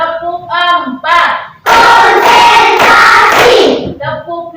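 Students in a classroom do a rhythmic clapping routine, with short voiced calls between claps, then a loud burst of group clapping and shouting that fades back to single voices.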